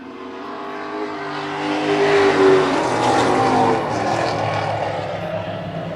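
Several stock cars roaring around the oval at Wiscasset Speedway, engines droning loudly and swelling as the pack passes close, then easing into a steady distant hum.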